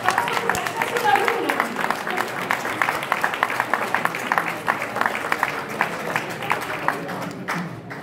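Audience applause at the inauguration of the Rome headquarters of Scholas Occurrentes with Pope Francis, a loud sustained burst of clapping from a crowd that runs steadily and tapers off near the end.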